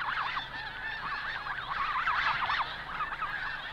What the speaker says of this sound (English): In the background, the wild geese talk insistently to each other